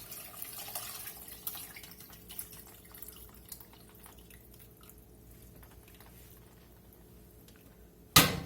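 Chicken stock, simmered for four hours, drips and trickles faintly and steadily as it is strained, with a sudden clatter at the very end.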